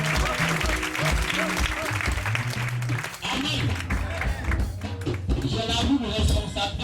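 A church congregation at a Sunday service applauding, sustained steady clapping from a crowd with voices speaking and calling out over it the whole time.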